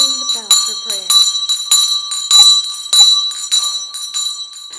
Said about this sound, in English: We're ringing the bell for prayer.